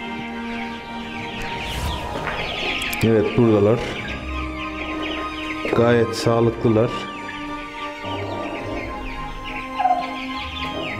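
Newly hatched Bresse chicken chicks peep in high, repeated chirps close by while someone talks over them.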